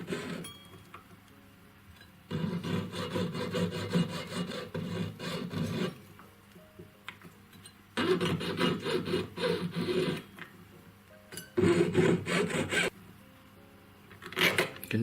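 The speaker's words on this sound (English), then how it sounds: "I'm using a very fine saw blade. I've got a 6/0 saw blade" A jeweller's saw fitted with a fine 6/0 blade cuts through a metal wave ring in three bursts of steady rasping strokes separated by short pauses, close and fairly loud.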